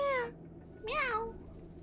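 A cat gives two distinct meows close by, the first short and the second longer with a rising-then-falling pitch, separated by a brief pause against a quiet background.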